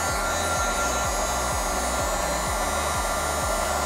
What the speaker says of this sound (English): I think my heat gun's like 400 degrees.